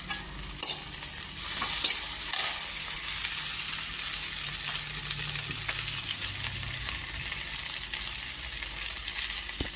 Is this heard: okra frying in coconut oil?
yes